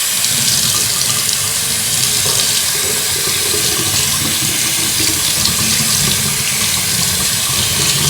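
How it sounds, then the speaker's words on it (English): Tap water runs steadily and loudly over an ITG foam air filter being rinsed, a constant close splashing hiss with no talk. "So now I'm going to rinse the outside."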